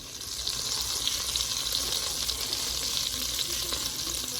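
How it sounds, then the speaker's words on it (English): Onions sautéing in melted butter with a dash of corn oil, a steady close sizzle and crackle running throughout with faint stirring. "the butter is melting in there with a little dash of corn oil so that it doesn't burn right away. And I'm going to saute the onions in there"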